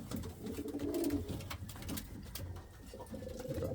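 Indian fantail pigeons, one a young male, coo in soft low repeated murmurs close by, with rustling and faint background noise throughout.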